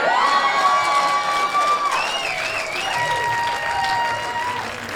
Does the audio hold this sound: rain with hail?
no